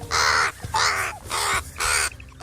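Crow caws four times in a steady rhythm, loud and close, harsh and drawn-out with short gaps between each call, no talking.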